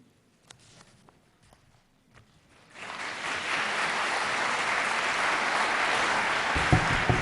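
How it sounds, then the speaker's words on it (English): Audience at a school district deliberative session meeting in Newmarket, New Hampshire breaks into loud, sustained applause after a few seconds of quiet room noise and scattered footsteps, the clapping continuing steadily to the end. "please hold your applause"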